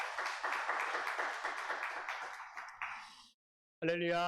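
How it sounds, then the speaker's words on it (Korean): A church congregation at a Sunday thanksgiving service claps in lively unison, a dense rhythmic patter of many hands that tapers off and stops. After a brief silence a voice begins. "우리 하나님 앞에 감사와 영광의 박수를 올려드리겠습니다."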